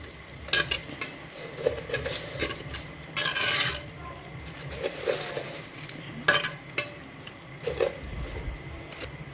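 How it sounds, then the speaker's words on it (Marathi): Yogurt is stirred into chicken biryani in a pot, a spoon scraping and rasping against the vessel in irregular strokes, close and fairly loud, with no talk. "दही टाकल्यानंतर मिक्स करून घ्यायचे"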